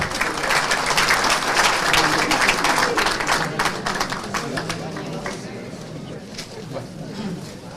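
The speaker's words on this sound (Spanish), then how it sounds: "a recibir al doctor César Nakazaki Servidón, fuertes aplausos, por favor." Loud applause from a large audience at a legal conference, dense clapping that swells early and then gradually thins and fades toward the end.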